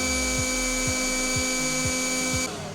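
A Ryobi 18V battery-powered leaf blower runs steadily and loudly at close range, holding a constant high whine and motor hum before its pitch sags slightly near the end.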